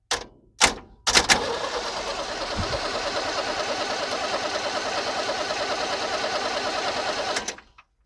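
A 1978 International Scout II diesel engine cranks on its starter after a few short clicks and false starts, then grinds steadily and loudly for about six seconds before cutting off.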